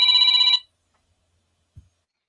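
A banana phone ringtone sounds once, a bright electronic trill lasting about half a second before silence and a faint low thump.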